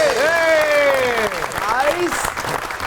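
Studio audience applause greeting Dr. Omar Adil on a television entertainment show, steady clapping layered under a bright, sliding musical or voiced tone that dominates the foreground.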